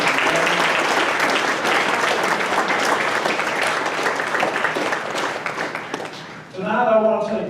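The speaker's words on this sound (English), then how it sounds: "all of the cadets who made this happen, a round of applause too" A crowd at a JROTC awards banquet applauds the cadets with loud, sustained clapping that fills the room for about six seconds, then fades as a voice begins speaking at the end.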